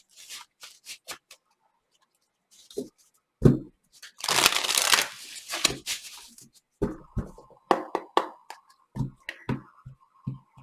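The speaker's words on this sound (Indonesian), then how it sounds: "kita akan lihat pakai kartu tarot energi di antara kalian." Tarot deck being shuffled up close, a long riffling burst followed by scattered taps and slaps as cards are squared and laid down, with no voices.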